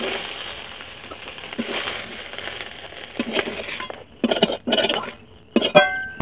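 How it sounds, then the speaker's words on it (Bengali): Fried small river tangra fish lifted out of an oily wok, with a soft sizzle followed by several sharp metal clinks and scrapes of the utensil against the pan. "এখন মাছটা আমি কড়া থেকে উঠিয়ে নিচ্ছি"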